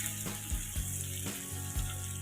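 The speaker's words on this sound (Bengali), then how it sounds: "এবার আমটাকে আস্তে আস্তে ভাজা ভাজা করে নিতে হবে" Raw mango pieces frying gently in a pan for pickle, a soft continuous sizzle with rhythmic scraping stirs every half second or so, close and fairly quiet.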